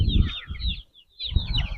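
A white Aseel rooster of about 2500 grams gives two short bursts of low clucking close by, separated by a brief pause.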